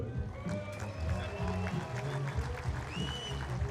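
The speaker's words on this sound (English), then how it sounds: "If you're cheering from Mexico, let's hear you." Spectators at a world archery championship recurve final in Copenhagen clap and cheer in a lively, sustained burst, heard at moderate distance with a few shouts rising above the crowd.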